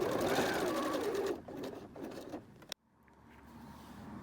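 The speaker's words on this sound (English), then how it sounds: "we're just gonna sew across the bottom to hold it in place" Sewing machine stitching across a webbing strap, a steady close whirring rattle that slows and stops, followed by a click and quiet room tone.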